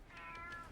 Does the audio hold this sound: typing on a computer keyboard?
no